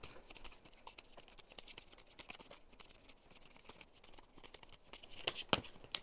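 Tarot cards being shuffled by hand give a soft, continuous papery crackle throughout, with a brief louder flurry of snapping near the end.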